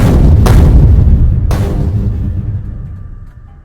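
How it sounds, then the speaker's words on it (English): Grenades explode in the Factorio video game, two sharp booming blasts in quick succession over a heavy low rumble that fades slowly. "Grenades for great justice!"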